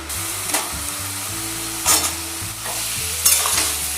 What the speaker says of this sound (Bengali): এই চিকেনটাকেও 5 মিনিটের মতো ভালো করে পেঁয়াজের সঙ্গে ভেজে নেব।